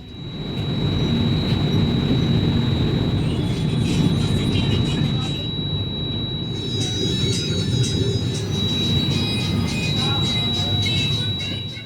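The 12372 Bikaner Howrah Superfast runs at speed, heard as a steady loud rumble of rolling rail cars with a sustained high whine on top, and faint voices in the background.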